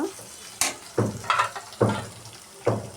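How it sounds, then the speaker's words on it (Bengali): Chopped garlic fries in oil in a pan, with taro flowers added, giving a steady low sizzle broken by several loud scraping stirs and clatters of a utensil, close by and without talk. "রসুনটা একটু ভাজা ভাজা করে নেব।"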